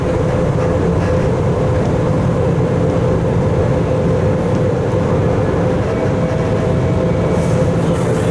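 A Las Vegas Monorail train runs along its track, heard from inside the car as a loud, continuous rumble with a steady electric motor whine, unbroken across the whole stretch and with no voices.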